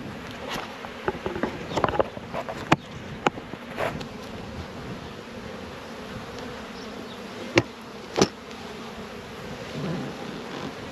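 Honeybees hum in a steady, close drone during a beehive inspection in New Zealand, with occasional sharper clicks and knocks of hive equipment over the buzzing and no talking.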